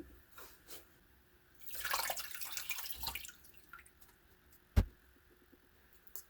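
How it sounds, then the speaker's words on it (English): Distilled water pours over a telescope mirror in a short splashing burst, followed by soft drips and trickling as it drains, with a sharp knock near the end. "let's pull it out and pour distilled water on it."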